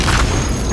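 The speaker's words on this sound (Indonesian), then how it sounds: "terjadi sebuah ledakan dahsyat yang membuat Box sekarat" A deep explosion booms in a scene from the film The Hunger Games: Mockingjay. It is a single loud, rumbling blast filling the whole moment.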